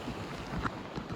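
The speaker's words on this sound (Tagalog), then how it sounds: "Oh, tignan mo ba, alon." Ocean surf at Patar Beach in Bolinao, a steady broad wash of breaking waves mixed with wind buffeting the microphone, loud and continuous over a short stretch with no voices.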